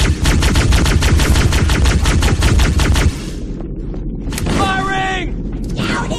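Rapid automatic gunfire in a Halo video game battle, a loud sustained burst of shots for about three seconds, then scattered blasts, electronic effects and echoing shots as the fight goes on.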